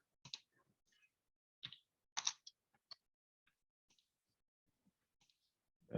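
Sharp, quiet computer mouse clicks, including quick paired double clicks, scattered through a stretch of near silence during software work, close and dry with a few soft keyboard taps mixed in.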